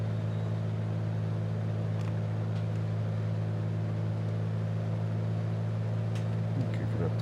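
Light aircraft engine in flight as throttle is added, a steady loud droning hum with low tonal bands heard from inside the cabin.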